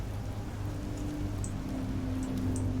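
Steady rain falls in a dreary industrial docks level of the video game In Sound Mind, a continuous even hiss with a few faint high drips and a low ambient hum underneath, no voices.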